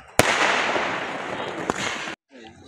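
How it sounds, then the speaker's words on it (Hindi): Firecrackers burst during a hill wedding procession at Chaukori, two sharp loud cracks standing out against a dense, continuous crackle of fireworks that runs on before cutting off abruptly. "जश्न पटाखों का आप देख सकते हैं"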